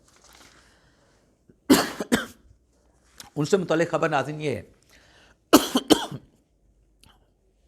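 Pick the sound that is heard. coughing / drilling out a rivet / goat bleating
coughing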